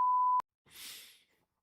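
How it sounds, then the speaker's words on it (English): A single steady censor beep lasts under half a second and cuts off abruptly. A short, soft burst of hiss follows after a brief silence. "Quick beep it before I say the word."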